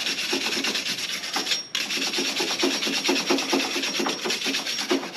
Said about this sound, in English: So just gonna take a wire brush and a rag